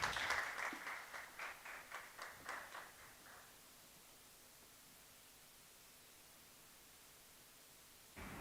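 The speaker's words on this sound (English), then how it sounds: "Let's give him a round of applause" At a corporate sustainability report launch, a thin round of applause greets a chief executive, heard as a few seconds of faint, rhythmic clapping that stops abruptly, leaving quiet room hiss.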